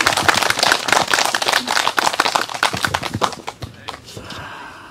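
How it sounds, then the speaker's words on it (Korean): An outdoor church service congregation breaks into loud, dense applause that continues for several seconds before thinning out and fading away near the end. "한번 박수 한번 올려드립시다"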